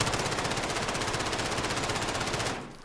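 A rebuilt gun in Call of Duty: Modern Warfare is hip-fired in one sustained automatic burst, rapid evenly spaced shots hammering loudly for about two and a half seconds before cutting off.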